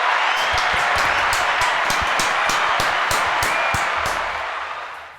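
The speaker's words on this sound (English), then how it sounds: "Give them a fucking round of applause." Podcast hosts clap for their guests in a small studio: a quick, fairly regular run of close hand claps from a few people over a constant background hiss, fading out at the end, with no talking.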